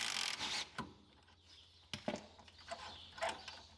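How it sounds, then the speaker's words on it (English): A ratchet wrench works a 15mm bolt loose on a Polaris Ranger 1000 rear axle, giving quiet clicking and scraping bursts with a few sharper metallic knocks, close by and faint, with no talking. "we're just going to take off this top bolt here."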